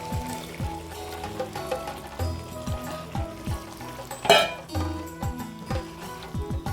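Cowpeas and their cooking water poured into a cooking pot, a steady close trickling, splashing pour with one sharper clatter partway through, and faint background music underneath.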